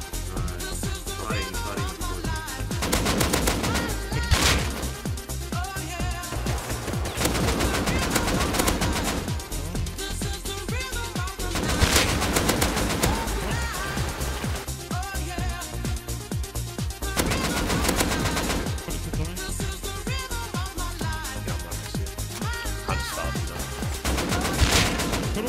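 Rapid bursts of gunfire from the survival video game Rust, with repeated automatic volleys and single shots over a dense, continuous mix of game sound.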